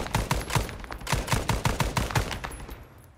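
Rapid automatic gunfire in the video game ArmA 3 (S.O.G. Prairie Fire), a loud, close burst of about a dozen shots in quick succession that fades toward the end.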